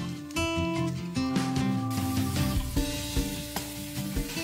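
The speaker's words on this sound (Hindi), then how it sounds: "अब इस गाजर को मैं 3 से 4 मिनट के लिए पहले अच्छे से भून लूंगी" Grated carrots sizzling and frying in desi ghee with green cardamom in a pressure cooker, a steady close crackle with occasional stirring scrapes throughout.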